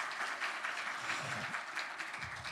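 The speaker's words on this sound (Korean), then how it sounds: "우리 실로암 찬양대회는 박수로 한번 축복하겠습니다" Congregation applause at a church's 50th anniversary service, honoring a choir after a hymn performance; a steady, dense wash of many hands clapping at moderate distance, continuous for the whole stretch.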